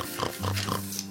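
A voice imitates a pig, giving a few short nasal oinks and grunts in quick succession, close and moderately loud.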